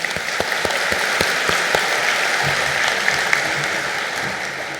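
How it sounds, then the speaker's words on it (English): Sustained crowd applause at a SUNY Canton commencement ceremony, a dense, even roar of many hands clapping that carries on throughout, with no speech. "A round of applause, please."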